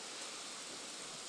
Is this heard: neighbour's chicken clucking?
no